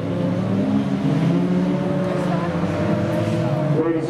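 Jalopy race cars on a Meremere dirt track, one with a tyre gone from its back rim, a dense continuous engine roar with shifting revving tones and cars passing, voices faintly beneath.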